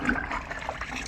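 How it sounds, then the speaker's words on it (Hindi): Clothes dipped and rinsed in a bucket of water give a brief, steady wet sloshing and splashing close by, with no voices. "वो एक ही बाल्टी के पानी से कपड़े को बस 3 दफ़ा यूँ निकालती"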